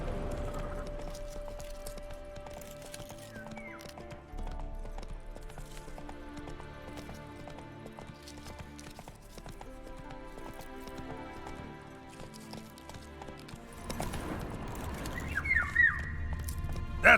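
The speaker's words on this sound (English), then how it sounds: "Run, Roach." A horse gallops steadily in The Witcher 3, its hoofbeats clopping in a continuous rhythm under game music, with a louder swell of sound near the end.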